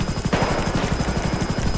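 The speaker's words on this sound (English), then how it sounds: "I have control of the helicopter here." Rotor noise from a Super Puma rescue helicopter in GTA 5, a steady, loud, close thumping chop with a constant whine above it and nothing else audible.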